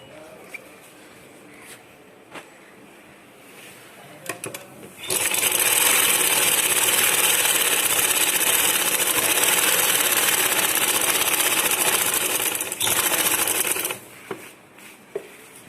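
A sewing machine stitches along both sides of a uniform belt, running in one loud, steady, rapid whir for about nine seconds, framed by a few faint clicks and handling taps before and after.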